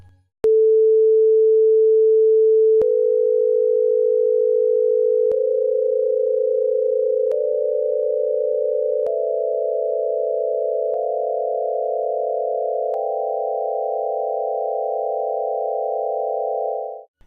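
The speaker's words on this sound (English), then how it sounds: "play these ascending tones, they have no harmonic perfection at all." A series of pure electronic tones, each held about two seconds, stepping steadily upward in pitch like a slow ascending scale, with no other sound.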